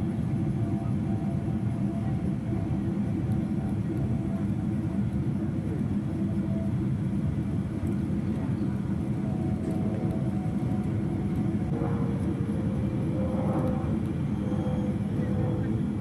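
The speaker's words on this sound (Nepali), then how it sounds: "जहाज चाहिँ बिस्तारै एयरपोर्टतिर बढिरहेको अवस्था।" Airliner on a flight from Kathmandu to Riyadh, slowly moving toward the airport, heard as a steady cabin-like engine roar throughout with faint intermittent tones near the end.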